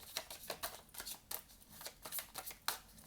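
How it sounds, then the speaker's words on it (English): Tarot cards drawn and handled during a reading, giving a string of soft, crisp shuffling and flicking sounds in quick irregular bursts, close up with no talking. "I'll pull 2 cards to clarify these."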